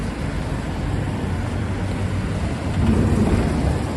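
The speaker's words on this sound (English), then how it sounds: "it's getting windy" Gusty wind roars steadily across a Midtown Manhattan street on a rainy Tuesday night in New York City, a broad low rumble that swells a little louder toward the end, with no voices.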